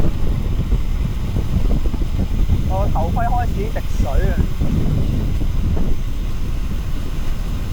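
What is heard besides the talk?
strong wind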